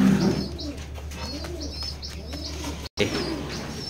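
Red checker male pigeon cooing in a loft, several soft, rounded coos repeating in a slow rhythm, close and clear against a low background hum, with no voices.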